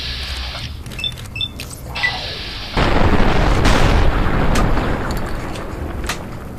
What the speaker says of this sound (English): These stupid bombs are always right beside me.